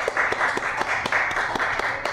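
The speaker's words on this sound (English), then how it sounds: "so let's give her a great round of applause there" Audience applause at a library poetry reading in Bayview, with a steady wash of clapping and sharp individual claps breaking through at regular intervals, loud and close throughout.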